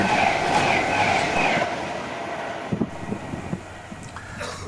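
Avanti train passing through Lockerbie station at full line speed, a loud rushing roar that slowly fades, followed by fainter rhythmic wheel clatter over the rails.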